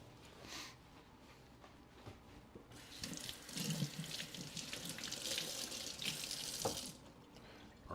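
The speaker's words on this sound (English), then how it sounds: "I'll give these a quick rinse off." A kitchen tap runs while vegetables such as peppers are rinsed under it, a soft, steady splashing flow that swells midway and then drops away.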